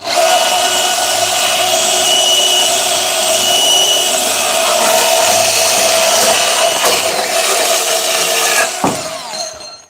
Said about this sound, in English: So let's see how quick this bandsaw does